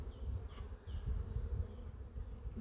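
Honey bees buzzing steadily around an opened hive while a beekeeper lifts the queen excluder and frames, a dense, continuous drone close by with no talking.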